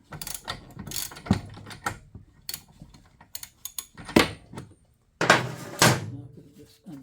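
A tight nut is worked loose by hand during a clutch replacement on a 2008 Yamaha Drive G29 golf cart, giving irregular metallic clicks, ratcheting and clunks in short bursts with pauses.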